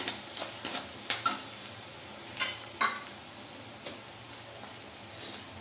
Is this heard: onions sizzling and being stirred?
yes